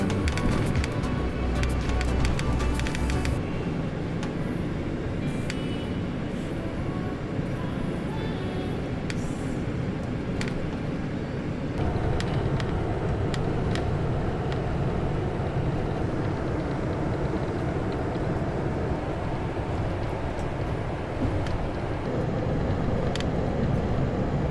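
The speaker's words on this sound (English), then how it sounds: "The bus passes a few stops on Glasgow Road before hopping onto the M8" Citylink AIR coach rolling along Glasgow Road, a steady low engine and road rumble that holds at an even loudness throughout, with no voices.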